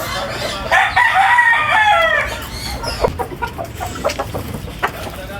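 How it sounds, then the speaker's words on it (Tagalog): A young fighting rooster, a bullstag, crows loudly and close by, then gives a run of short clucks while other birds and farm noise sound faintly in the background. "Ito yung mga bullstag na."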